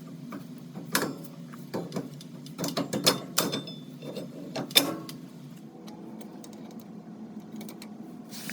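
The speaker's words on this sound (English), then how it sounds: "So I'm currently just tightening the drive line." Ratchet tightening driveline bolts on a Ford 9 inch rear end, quiet irregular clicks and metallic taps in short bursts, close by in a workshop, followed by softer fiddling sounds.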